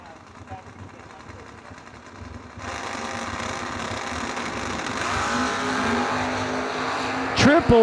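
Drag racing cars at a bracket race, including a Buick Regal, roar as their engines rise to a sustained loud, high-revving drone, with an announcer talking over the noise.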